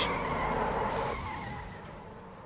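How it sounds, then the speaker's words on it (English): Race car tires skid and squeal through a big crash in a Coca-Cola 600 stock car racing video game, a loud screech with engine noise that drops off and fades away. "And oh, big crash!"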